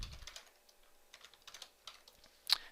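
Soft keystrokes on a computer keyboard, quiet and close, come as an irregular run of light taps ending in one sharper, louder key press.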